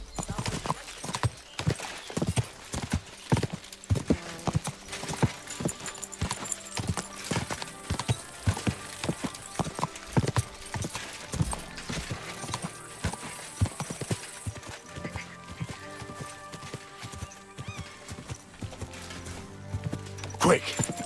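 Hooves clatter in a quick, continuous galloping rhythm in Kingdom Come: Deliverance II, close and busy, with a horse's whinny and faint voices now and then.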